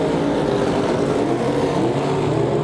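Dense, continuous roar of race cars circling a dirt speedway, several engines blending into one loud, steady wall of sound without any clear gaps.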